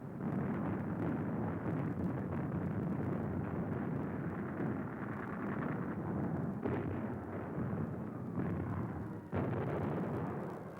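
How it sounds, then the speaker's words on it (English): A WWII naval barrage of ship guns shells the shore, a continuous dense rumble of overlapping booms and blasts on old archive sound with no pauses. "Ships all up and down the line joined in the barrage"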